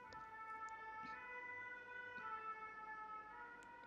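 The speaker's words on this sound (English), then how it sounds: "I think that was the ambulance." An ambulance siren wails from a distance, its steady tones faint but continuous above a low hum of road traffic, with no talking.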